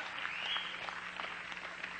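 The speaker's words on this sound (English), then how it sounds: "Clap loud." Clapping from a church congregation during a lively sermon, a dense steady patter of many hands at moderate level with no talk over it.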